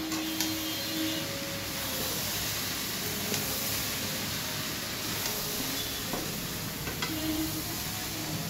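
Food sizzling and frying in a pan while being stirred and mixed, a steady hiss with occasional scrapes and clinks of the utensil, close and alone.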